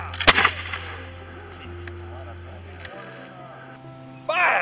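Reenactors fire a musket volley at a period encampment at Waters Farm: one sharp, loud blast crashes out at the start, then fades into a low steady hum with faint voices nearby.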